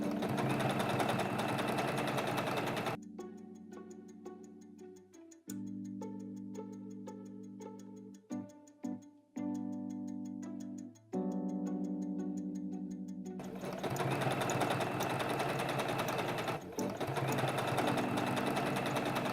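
A sewing machine stitches elastic onto a butterfly belt in close, loud bursts of rapid mechanical ticking, stopping and starting several times between stretches of handling noise.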